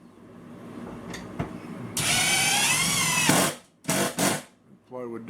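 A power driver sinks large screws into plywood during a kitchen cabinet installation, giving a steady high whine for over a second, then two short bursts, with some talk before and a brief clicking at the end.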